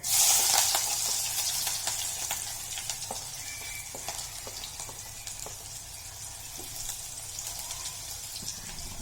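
Cumin seeds and onions hit hot oil in a pan, giving a loud initial sizzle that settles into steady crackling and popping, with a few faint stirring clinks.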